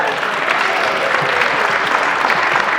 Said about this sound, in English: We already applaud for you.